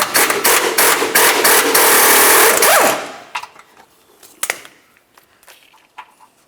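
Mounting nuts being removed from the front bumper brackets of a 1994-2002 Dodge Ram 2500: a loud continuous buzzing rattle from a power tool for about three seconds, then scattered clanks and clicks of metal hardware.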